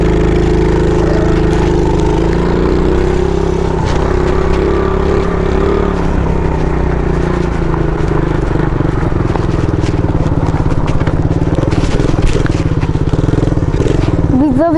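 A 50cc scooter engine running steadily through a long stretch, a buzzing, droning tone holding near constant pitch with slight rises toward the end, heard outdoors at moderate distance.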